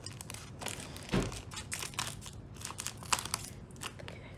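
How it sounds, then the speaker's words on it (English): Scissors cut open the plastic package of a Poppin Cookin sushi candy kit, making close, brittle crinkling and crunching with a sharper snip or two, quiet and without speech. "Let's see, let's cut this open here."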